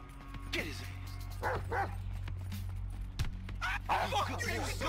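A dog barks, yips and whimpers while attacking in the video game Grand Theft Auto V, repeated close barks mixed with shouting voices over a low steady background hum.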